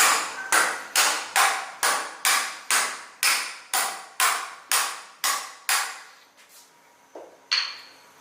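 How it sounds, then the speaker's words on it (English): A mallet drives the top crown onto a dual crown bike suspension fork in about a dozen sharp, evenly spaced knocks, close and loud, followed by a pause and one last strike. "I will use a mallet to hit it in."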